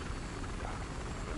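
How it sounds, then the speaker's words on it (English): A helicopter in the video game Battlefield Hardline drones with a steady rotor and engine roar that fills the clip, with no breaks. "luckily, I have a helicopter"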